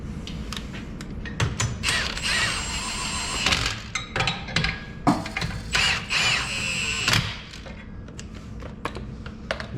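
A ratchet tightens the bolts on a differential brace being installed on a Nissan 350Z, producing rapid runs of close, dry clicking in several bursts separated by short pauses, with some clanking of tools between them.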